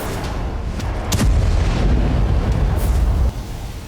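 A deep distant explosion boom rolls out, followed by a sustained low rumbling roar that fades, heard alone without voices.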